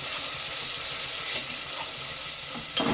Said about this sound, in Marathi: सगळा मसाला तेलात छान असा मिक्स करून घेऊया